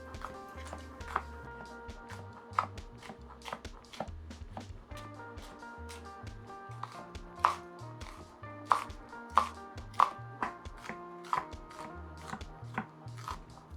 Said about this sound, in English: I'm going to start cutting up the sweet pepper